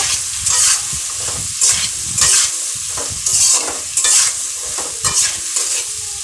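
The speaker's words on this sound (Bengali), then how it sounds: "আমি সবজিগুলো সুন্দর করে ভেজেছি" Mixed vegetables with fish frying in a pan, a steady sizzle broken by repeated scraping stirs of a spatula, close and moderately loud with no voices.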